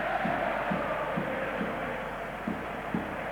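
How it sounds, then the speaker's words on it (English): Spanish football crowd of around 70,000 chanting in a stadium during Spain versus Northern Ireland, a distant, reverberant roar with rhythmic swells of voices pulsing roughly every half second. "the happy Spanish crowd dancing and waving and chanting"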